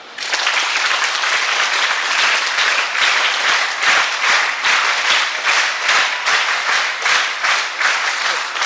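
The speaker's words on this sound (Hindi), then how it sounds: "तो एक बार अपने लिए जोरदार ताली" Loud, sustained applause from a crowd of school students clapping together in a hall, with dense rapid claps continuing steadily throughout.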